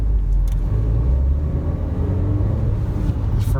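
A 2019 Volkswagen Jetta S accelerating through its gears, heard as a loud, steady engine rumble and road drone from inside the car, continuous throughout without talking.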